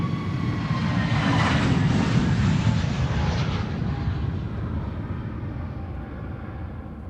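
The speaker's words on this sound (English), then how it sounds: "777-300 airtime, ladies and gentlemen. KLM flight 791 going to Sao Paulo." KLM Boeing 777-300 airliner taking off from Amsterdam Schiphol on a flight to Sao Paulo, a loud, broad jet engine roar that swells early and then slowly fades as the aircraft climbs away.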